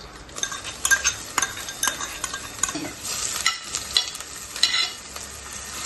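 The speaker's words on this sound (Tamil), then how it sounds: "வெங்காயம் நல்லா வெந்து வரட்டும்" Onions fry with mustard seeds in a pan for a fish curry. A steady, loud sizzle runs under repeated close scraping stirs of a spoon against the pan, with the occasional light clink.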